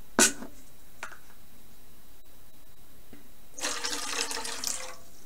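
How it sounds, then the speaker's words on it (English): Water poured out of a plastic photo tray through its spout, a brief splash followed by a close, bright trickling pour of about two seconds after a quiet gap. "this little spout is so perfect for pouring the water out"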